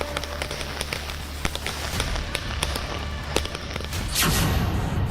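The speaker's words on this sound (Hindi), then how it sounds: "दिवाली के जश्न पर लोगों ने जमकर पटाखे जलाए।" Firecrackers bursting on Diwali night in the Delhi-NCR area, with many sharp cracks and pops scattered through the clip over a dense crackling background, building into a louder sustained burst toward the end.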